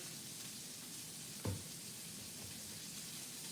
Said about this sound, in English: All that sizzling.